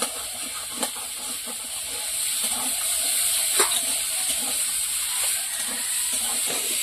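Vegetables sautéing in a pan for a Bengali chorchori, a steady sizzling hiss with occasional stirring clicks, moderately loud and constant throughout.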